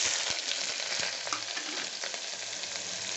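Onions and curry leaves sizzle steadily in hot oil, a dense, continuous frying hiss with a few faint clicks from the pan.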